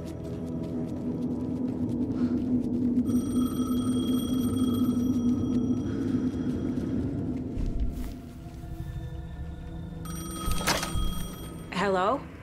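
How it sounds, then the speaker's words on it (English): A payphone rings inside the Alan Wake II video game, its bell-like tones cutting in and out over a heavy low rumble and ambient drone, with a final burst of ringing near the end. "The payphone was ringing."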